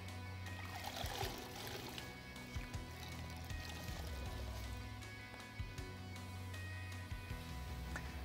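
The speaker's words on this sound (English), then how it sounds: "So I'm just gonna kind of rinse this until it looks clean." Water runs and splashes steadily over a foam motorcycle air filter being rinsed, a soft continuous trickle with occasional small knocks, fairly quiet and close.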